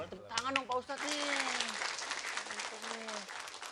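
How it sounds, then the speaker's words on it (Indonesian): TV studio audience clapping steadily for several seconds, a dense close crowd of hands, with a host's and others' voices speaking over it. "Tepuk tangan dong Pak Ustadz nih"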